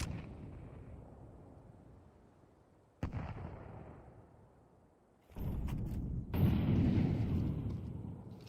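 Shotgun blasts in an esports video game match, a few sharp booming shots spaced seconds apart, each followed by a decaying rumble, with louder game noise near the end.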